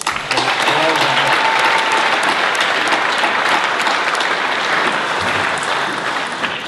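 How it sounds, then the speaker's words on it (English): Loud, dense applause from an audience at a startup accelerator pitch night, sustained steadily throughout with a full crowd clapping together. "Can we give them another round of applause?"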